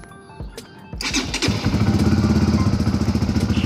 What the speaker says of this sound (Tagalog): paandarin yung motor natin para mag-circulate yung bagong engine oil natin